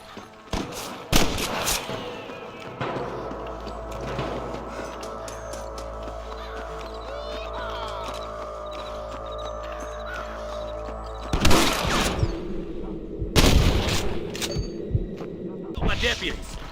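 Sniper gunfire in the Red Dead Redemption video game, sharp shots cracking in bursts over a steady low hum, with heavy clusters of shots near the start and again toward the end.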